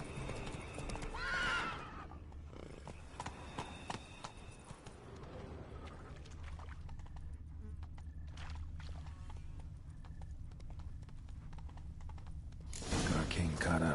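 The horse Roach galloping in a video game, steady hoofbeat clip-clop with a neigh near the start, mixed with game sounds and bursts of louder noise at the beginning and end.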